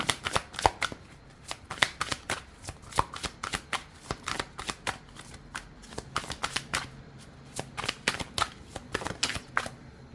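Tarot cards being shuffled by hand, a rapid series of crisp riffling snaps and slaps in quick irregular bursts, close and clear with no talk over them.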